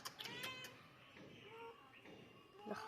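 A cat meows a few times amid background chatter and household noise, the cries fairly faint and mixed with other sounds.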